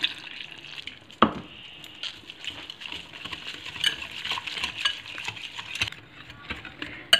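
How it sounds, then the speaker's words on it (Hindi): Soft, steady stirring and wet mixing of water into a thick spice batter for fried fish, with a few faint clinks and a sharp tap, close by, no talking. "अब पानी डाल के इनको मिक्स कर लेते हैं।"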